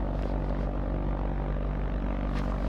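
An airplane engine drones continuously in a flight simulator game, a loud, steady propeller-like hum with low rumble and no talking.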